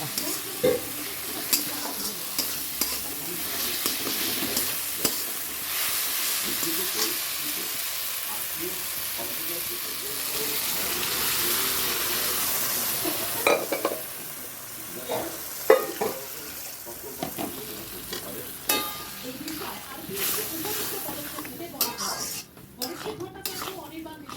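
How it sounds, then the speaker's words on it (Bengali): Tomatoes fried down in a pan, then peas stirred in; a close, continuous sizzle runs under scraping spatula strokes and clinks of utensils against the pan, with someone talking over it. "টমেটোগুলোও একদম পুরো ইয়ে করে দিয়েছি ফাটিয়ে দিয়েছি দেখো এবার এর মধ্যে মটরটা দিয়ে দেবো"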